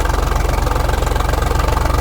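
A tractor engine labours under heavy load during a tractor pulling contest, its low rapid chugging pulses loud and close, with no voices over it.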